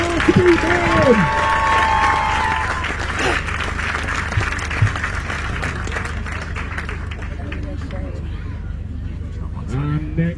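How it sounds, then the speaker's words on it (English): A crowd at an outdoor Highland Games strongman log press event applauds a competitor, a broad wash of clapping and cheering under an announcer's voice over a constant engine-like drone, fading toward the end. "Time on the clock, big round of applause there for Speedman."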